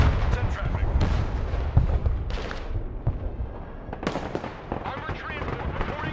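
Gunfire and artillery rattle and boom through a heliborne assault by American special forces in the game Broken Arrow, with bursts of shots and heavy blasts layered close together, partly under a talking voice.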